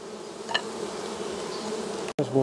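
Honey bees buzz at the hive, a dense continuous hum with a brief cut near the end.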